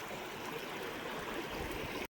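Jalamunda Waterfall in Koraput, Odisha roars as a steady, dense wash of falling water, close and continuous with no voices, ending abruptly.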